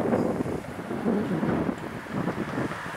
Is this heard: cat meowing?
no